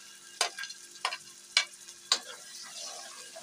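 Tomatoes go into a sizzling tadka of onion and garlic-ginger paste for moong dal, bringing a soft steady frying hiss and four sharp stirring scrapes of the spoon in the pan, close by.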